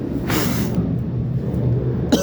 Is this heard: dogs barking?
no